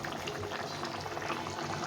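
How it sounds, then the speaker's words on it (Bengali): A tengra fish curry with potato and taro simmers at a steady boil, giving a continuous close bubbling with no pauses. It holds an even level throughout and no one speaks. "ঝোলটা ফুটে গেছে, নামিয়ে নেব।"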